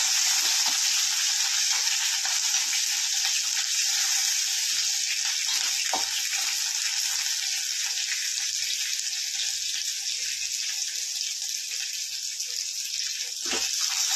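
Small onions sizzle steadily in hot oil in a pan for a quick chutney with dried red chillies. The bright frying hiss stays constant, broken now and then by the soft scrape of stirring.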